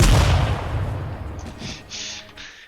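Grenade explosion in the ATOM RPG game: a loud, close blast with a deep rumbling body that decays over a couple of seconds, followed by faint clicking interface sounds.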